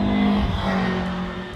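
A race car with a 1.6-litre, 110-horsepower engine drones steadily as it drives, a sustained tonal hum that fades slightly over a second and a half, with no voices.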